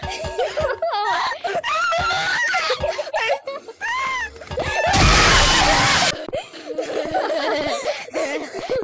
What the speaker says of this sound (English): That scream was awful.